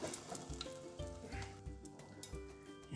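A cheesy Italian potato frittata sizzles in an uncovered pan over a low flame, a close, steady crackle and hiss broken by soft rhythmic ticks and pops.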